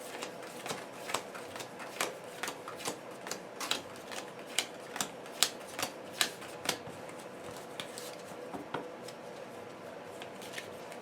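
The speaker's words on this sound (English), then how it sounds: "Let me shuffle." Arkham Horror playing cards being shuffled at a tabletop game, giving a quiet run of crisp riffling snaps and flicks in an uneven rhythm, close by and alone.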